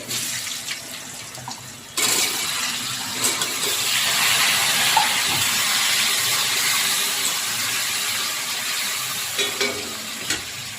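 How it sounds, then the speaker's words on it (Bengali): Pieces of elephant foot yam fry in hot oil, a broad steady sizzle that jumps up after a quieter start, with faint scraping and a few light knocks from stirring, close and without talk. "আমি প্রথমেই ওলটা ভেজে নেব, তেলে ফ্রাই করে নেব।"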